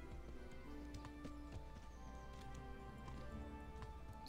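Horse hooves clip-clop in the video game Kingdom Come: Deliverance as a steady run of quiet, rhythmic hoofbeats over a low background hum.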